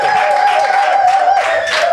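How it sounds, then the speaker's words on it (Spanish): Audience applause greeting a guest, Sergio Pegueros, at a Mexican festival interview, dense steady clapping throughout at full volume with a sustained tone running underneath. "¡Un aplauso!"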